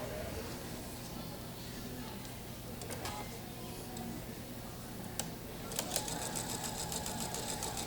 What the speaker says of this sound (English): I am going to sew that seam right there